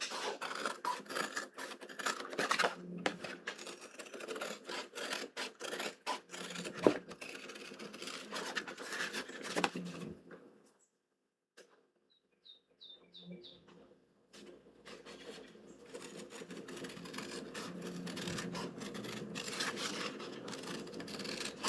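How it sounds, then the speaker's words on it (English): Scissors roughly cutting chrome-tan leather for a mousepad, giving a steady run of rasping, scratchy snips that fill the first ten seconds, then a brief lull with faint clicks before more cutting and handling noise returns. "We're just rough cutting with some scissors."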